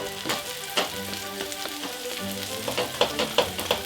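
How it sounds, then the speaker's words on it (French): Bread toasting with crushed garlic in a hot pan, a busy close sizzle of frying with repeated sharp crackles and stirring scrapes throughout, no talk. "Et on va faire toaster le pain et faire cuire l'ail en même temps."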